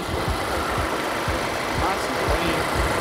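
A rattly used car engine runs steadily nearby with the hood open, giving a continuous low rumble with loose, knocking pulses throughout.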